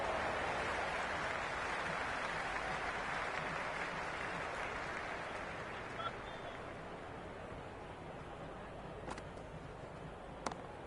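Stadium crowd at a Big Bash League cricket match between Brisbane Heat and Melbourne Stars, a broad roar of cheering and applause that slowly fades over about ten seconds, with a few sharp claps near the end.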